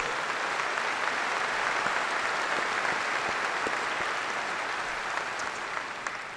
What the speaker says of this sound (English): So give yourselves a round of applause for all you do for the ideals we